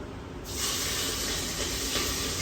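Loud, steady sizzling bursts out about half a second in as ingredients hit roasted cumin in a hot pan, a dense hiss that holds unbroken to the end with no talking.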